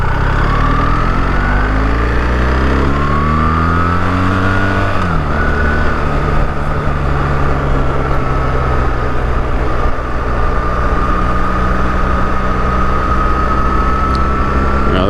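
A BMW R1300 GS motorcycle rides along a road, its engine droning loud and steady throughout with rising and falling pitch as it changes speed, wind rushing constantly over it.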